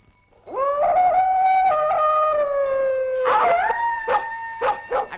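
A dog howls in long, wavering, sustained tones, close and loud, then breaks into a few short barks near the end.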